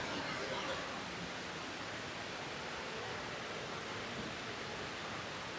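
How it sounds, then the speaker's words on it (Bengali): Artificial waterfall inside Dubai Mall, a dense, steady roar of falling water that fills the space evenly with no pauses. "কৃত্রিমভাবে যে একটা ঝর্ণা এত সুন্দর করে তৈরি করা যায় সেটা দুবাই মলে না আসলে হয়তো আগে বুঝতে পারতাম না"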